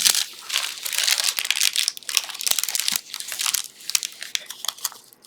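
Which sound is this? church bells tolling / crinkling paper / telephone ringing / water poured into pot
crinkling paper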